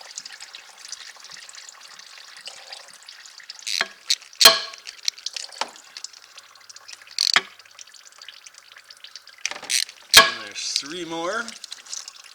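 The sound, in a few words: fluid draining from a Can-Am Outlander into a pan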